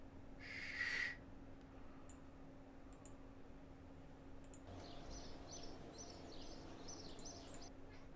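Bird calls from the ambient soundscape of Kerbal Space Program: one brief loud call, then a string of faint, distant chirps over a steady hum, with scattered clicks.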